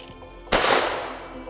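A single sharp shotgun blast fired at a clay target on an outdoor shooting range, a sudden loud crack that trails off in a long fading rumble, preceded by a quiet moment.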